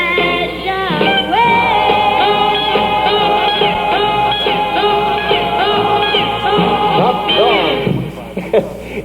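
A song playing over 1968 AM radio, a loud, bright vocal and band recording with a narrow, compressed broadcast tone, ending as a DJ starts to speak.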